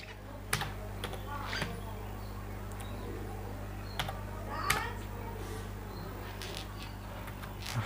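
Sparse clicks of typing on a computer keyboard while entering a fund name into a search bar in a mutual fund app, faint and close over a steady low hum, with no talking.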